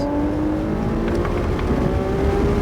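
A car accelerates on a race track at Motor Enclave, its engine giving a steady rising drone with a gradually climbing tone, loud and continuous from inside the car for the whole stretch.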